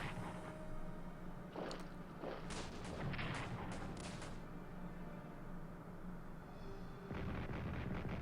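Artillery fire in a World War I strategy game: a string of sharp, booming shots clustered in the middle, then a further burst near the end, heard alone over a quiet background hum.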